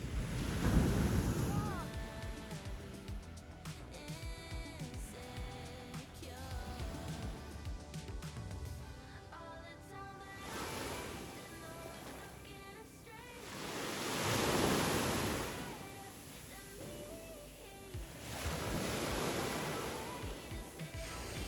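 Morning waves on a beach, heard as soft broadband surf that swells and recedes in slow surges, with some wind noise on the microphone and faint background murmur.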